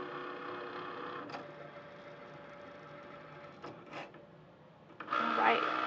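A Cricut machine cuts printed valentine stickers, giving off a quiet mechanical whir with a few short clicks and carriage movements, and a louder burst of motor noise at the end.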